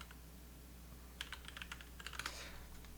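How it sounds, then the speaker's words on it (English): A computer keyboard clicks through a quick burst of typing, roughly a second and a half of soft, close keystrokes over a quiet background hum, with no voices. "I'm going to type up something"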